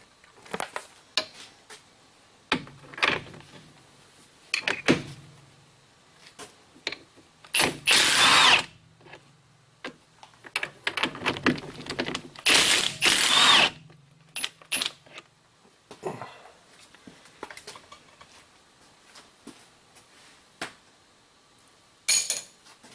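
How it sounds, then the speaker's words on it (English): Bursts of a power tool or impact driver spinning off nuts with a socket during a CV axle replacement on a 2001 Buick Century, short whirring runs alternating with clicks, ratcheting and brief quiet pauses, close by. "We'll get the socket for those nuts and take them out"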